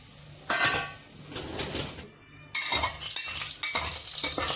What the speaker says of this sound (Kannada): ಎಣ್ಣೆ ಕಾದಿದ್ದಾದಮೇಲೆ ಇದು ನೋಡಿ ಬಿರಿಯಾನಿ ಮಸಾಲ ಮಿಕ್ಸ್ ಹಾಕ್ಕೊಳ್ಳಿ